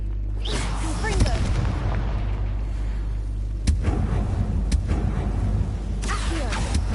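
A Confringo fire spell goes off in the game Hogwarts Legacy, with a low rumbling hum under whooshes and sharp booming impacts that land a few seconds apart, mixed with brief game voices.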